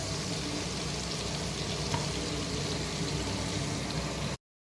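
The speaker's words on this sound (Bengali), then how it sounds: "এবার এই চিংড়ি মাছগুলো একটু ভেজে নেব" Shrimp, salted and coated with turmeric, fry in oil in a wok with a steady, close crackling sizzle that holds evenly and then cuts off abruptly.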